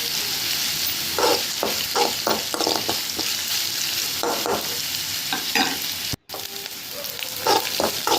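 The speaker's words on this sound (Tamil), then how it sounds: "கடுகு கொஞ்சம் போட்டுன்னு காஞ்ச மிளகாய், வெங்காயம், கருவேப்பிலை கொஞ்சம் போட்டுக்கலாம். இல்லையா போட்டு வணக்கி விட்டுலாம் எல்லாத்தையும்." Mustard seeds, dried chillies, onion and curry leaves sauté in hot oil for a masala karamani dish, with a steady close sizzle and repeated stirring scrapes in a regular rhythm, a brief dropout near the end, and no talking.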